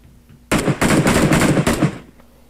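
A gun salute in PUBG Mobile sounds as a loud, rapid automatic burst lasting about a second and a half, with dense repeated shots that cut off abruptly into quiet game ambience.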